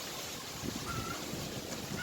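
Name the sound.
wind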